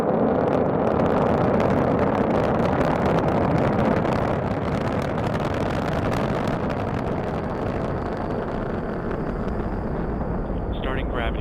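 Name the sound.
SpaceX Falcon 9 rocket launch roar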